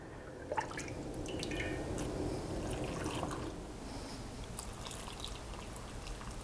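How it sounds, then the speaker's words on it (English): Hot water poured into a canning jar of hot chipotle black beans, a close, steady trickling pour with drips and splashes that ease toward the end. "this is hot water going onto our hot beans"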